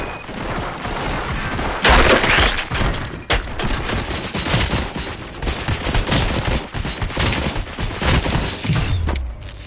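Loud, dense gunfire from the video game RoboCop: Rogue City on PlayStation 5, with continuous automatic bursts and heavy impacts filling the whole stretch, no talking.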